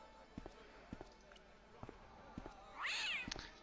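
Cat in the adventure game Broken Sword: Shadow of the Templars gives a rising, wavering meow near the end, after several soft thudding knocks and a little background speech.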